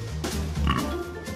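Several pigs grunt and oink in a livestock show ring during judging, a steady cluster of low, close snorting grunts throughout with a slightly louder burst midway.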